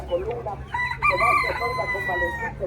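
Japanese ornamental chickens at a market in Tlaxiaco, Oaxaca, Mexico: a rooster crows a long, strained cock-a-doodle-doo over steady market bustle and low murmuring crowd noise.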